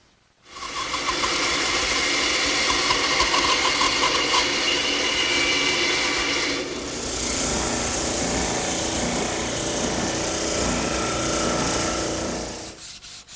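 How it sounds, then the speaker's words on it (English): A bandsaw cuts a curved wooden brace for a mailbox, a loud steady whine and rasp that runs without pause, changing pitch partway through as the blade works along the curve, then stopping. "we'll cut it at the bandsaw"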